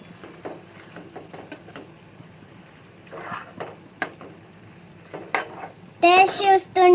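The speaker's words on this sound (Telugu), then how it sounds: "ఇప్పుడు మనం మిక్స్ చేసుకుందాం." A spoon stirs an egg and ridge gourd curry in a pan, making scattered scrapes and knocks over a soft, faint sizzle; a short tonal, voice-like sound cuts in near the end.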